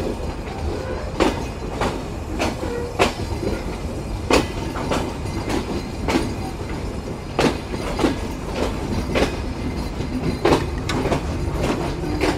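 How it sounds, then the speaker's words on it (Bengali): Rupsha Express pulling out of Khulna station through a gentle curve, wheels striking rail joints in a steady clickety-clack rhythm over a continuous rumble, with occasional faint squeal, close and fairly loud. "আমাদের ট্রেন ছোট্ট একটি কার্ভের সাথে এরপর খুলনা ত্যাগ করে"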